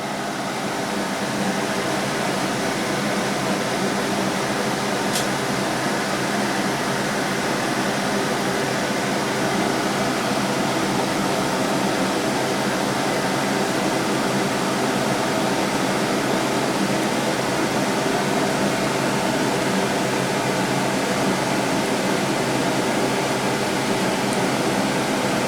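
An air conditioner running indoors on a hot day, a constant broadband whoosh and hum that stays loud and unchanging throughout, with one brief click and no talking.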